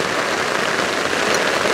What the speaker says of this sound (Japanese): いやー、とんでもない雨になっちゃいましたね。